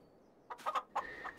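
Chickens cluck in Farming Simulator 22, two short bursts of clucking close by against quiet background.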